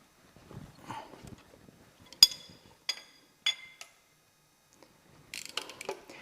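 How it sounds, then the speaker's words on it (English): Metal clinks and sharp taps from a ratchet being handled during an engine leakdown test, a few separate clicks and clanks spaced over several seconds, close and fairly quiet with brief scuffing between. "Grab my ratchet."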